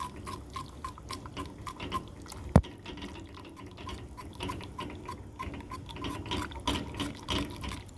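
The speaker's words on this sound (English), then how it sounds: "Let's go in and whisk this all together" A whisk works a sauce together in a pot for saltfish mac and cheese, producing faint, quick repeated clicks and liquid stirring that run steadily throughout.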